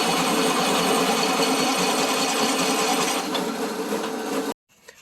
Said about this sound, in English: We're going to use the old hand start drill here. We're going to drill through.